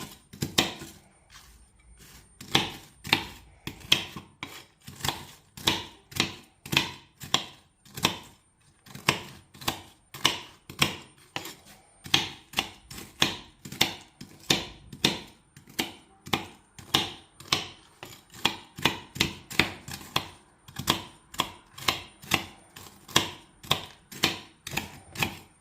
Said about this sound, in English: Start by chopping them off so you make some crumbs.